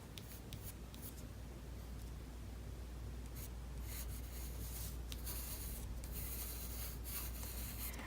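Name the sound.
lightly sketching with pencil on paper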